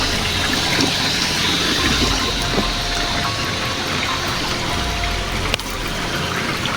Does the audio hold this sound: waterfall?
yes